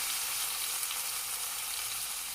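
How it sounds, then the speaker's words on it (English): A pork chop sears in hot oil in a pan, a loud continuous hissing sizzle, close up and steady with no talking. "Now we put in the pork chop in there."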